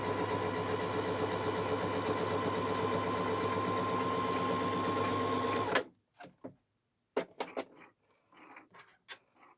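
A sewing machine stitching a short seam with a backstitch at the end runs steadily and loudly for several seconds, then stops abruptly, followed by a few light clicks and handling noises.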